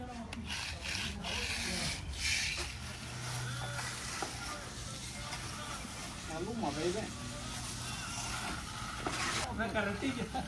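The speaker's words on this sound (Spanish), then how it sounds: "Es lo que está utilizando aquí Arturo, está utilizando un barrote de magnesio para que quede totalmente recta nuestra junta." A magnesium float is rubbed along a joint in a fresh concrete floor slab, giving a steady scraping rasp that continues throughout at close range, with brief voices in the background.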